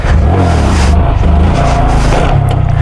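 A loud Honda Grom motorcycle engine revs hard during a wheelie and rises in pitch, its gritty roar surging and dipping as the throttle changes.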